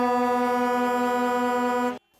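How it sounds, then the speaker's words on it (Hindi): A protesting truck driver's horn blares outside Parliament Hill, one loud, sustained, steady blast lasting nearly two seconds before cutting off abruptly. "इन ट्रक ड्राइवरों ने वहां की संसद पार्लियामेंट हिल के बाहर लगातार हॉर्न बजाकर किया।"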